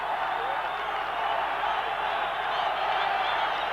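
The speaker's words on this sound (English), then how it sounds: "So it certainly livened up the crowd now." Football stadium crowd at a 1990 Colombia vs USSR friendly reacting after a shot, a broad, steady roar and murmur of many voices at a distance with no distinct peaks.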